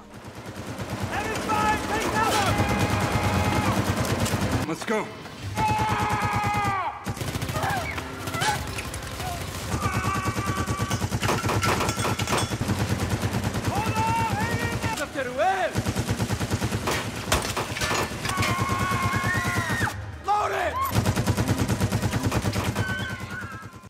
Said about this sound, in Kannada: ಒಂದು ದೊಡ್ಡ ಬ್ರೌನಿಂಗ್ ಗನ್ ಬಳಸ್ಕೊಂಡು ಶೂಟ್ ಮಾಡಕ್ ಶುರು